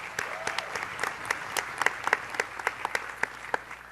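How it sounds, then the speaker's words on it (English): A conference audience at a Hispanic leadership summit claps for young volunteers; sparse, distinct claps ring out at a moderate level, scattered and uneven rather than a dense roar. "can we give it another round of incredible applause to the more than 20 volunteers"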